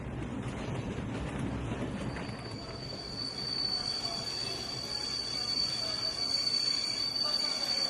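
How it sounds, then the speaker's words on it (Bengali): A train slows to a halt with steady rumbling rail noise and a sustained high wheel squeal along the track, loud and continuous for the whole stretch with no talking. "ট্রেনটা থামল।"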